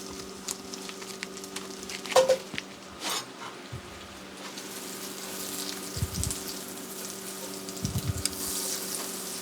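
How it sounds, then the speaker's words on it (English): Butter melts in a hot pan that just held vegetables, giving a faint steady sizzle with a few soft clinks and scrapes close by. "to this same pan where we just took the vegetables out, we want to add in some butter"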